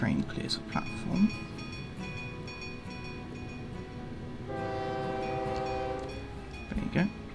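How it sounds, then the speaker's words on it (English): A Pendolino train in a simulator game pulls away from a station platform, its steady rumble carrying a layered, harmonic drone that rises and holds through the middle, with brief clunks at the start and end and voice-like sounds overlapping. "And eventually, when this train clears a platform,"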